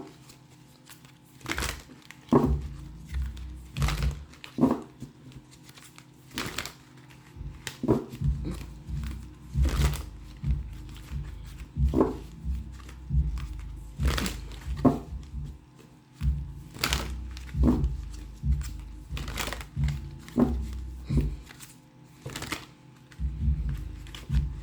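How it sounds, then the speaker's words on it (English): Tarot cards shuffled by hand during a reading, a series of crisp riffling bursts and soft thumps repeating every second or two, close and fairly loud with no talk. "One more good shuffle here."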